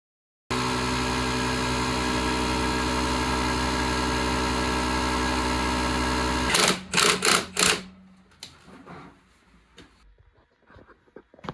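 A small John Deere snowblower engine running loud and steady, reportedly on brake fluid after carburetor trouble, then a few sputtering bursts as it dies away into near silence.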